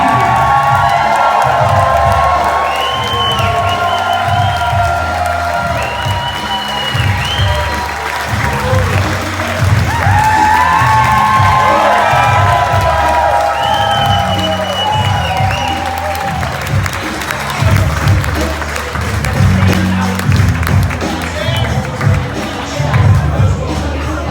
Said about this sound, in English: how about a nice round of applause for our bride and groom